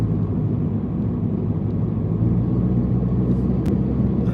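A small car creeping through bumper-to-bumper Tampa traffic, heard from inside the cabin as a steady, continuous low engine and road rumble with no one speaking.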